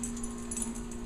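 Several dogs greet someone arriving home at the door, close by, with whimpers and yips over a steady hum and a jangle of keys; no talking.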